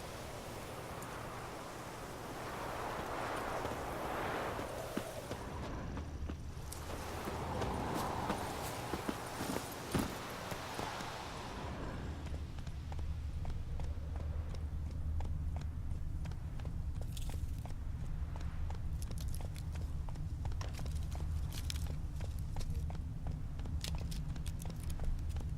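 Geralt's horse Roach galloping in The Witcher 3, a steady close rhythm of hoofbeats over a soft outdoor ambience, louder and busier in the first half and then easing into a lighter pace.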